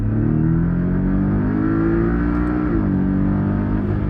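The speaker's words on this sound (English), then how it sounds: "foot on gas, launch control activated" Porsche 718 Cayman S launching hard under launch control, a loud, close engine roar climbing steadily in pitch, briefly dipping at a gear change and then pulling again, with no voices.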